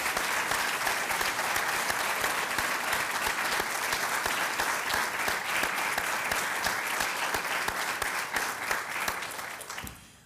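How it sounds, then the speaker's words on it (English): A sustained round of applause from a full audience at a nursing college white coat ceremony, dense and even for about ten seconds before tapering off quickly at the end. "But I would like all of us to give Dean Zaghetti a round of applause for her incredible accomplishments."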